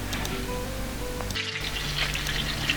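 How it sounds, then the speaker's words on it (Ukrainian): A freshly rinsed, still-wet griddle pan set back over the fire sizzles and hisses steadily as water spits and boils off, close and continuous with a brief gap partway through. "гарно виполіскую і знову ставлю на вогонь"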